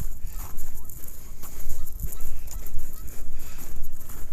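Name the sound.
geese honking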